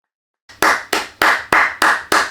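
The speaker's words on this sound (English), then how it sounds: "Let's do some clapping." Six sharp hand claps in a steady, even rhythm ring out close and alone after a moment of silence, each with a short decaying tail.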